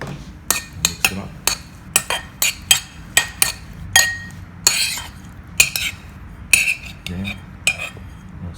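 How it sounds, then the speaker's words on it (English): Utensils mixing a salmon scrap salad in a bowl, a series of sharp clinks and scrapes of metal against the dish in an uneven rhythm, close and clear with no speech. "Mix it up."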